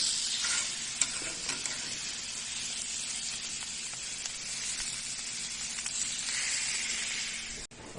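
Meat browns in a hot pan for a home date-night dinner, a steady close sizzle and spatter of frying with faint stirring scrapes throughout, no talking.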